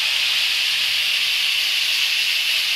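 Spice paste poured into hot oil with whole cumin, sizzling for an aloo dum curry: a steady, loud, bright hiss of frying that holds evenly throughout without pauses.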